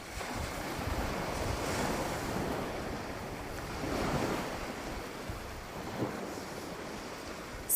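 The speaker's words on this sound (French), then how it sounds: "vous vous laissez porter par le bruit des vagues." Ocean waves wash in and out in slow swells, a broad hiss of surf with gusty wind noise, steady and moderately distant.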